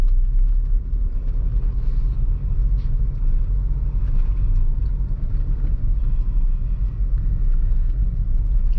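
Manual car pulling away in first gear with the air conditioning on, engine given extra throttle for a rising stretch ahead; a loud, steady low rumble from inside the cabin, continuous throughout with no talk.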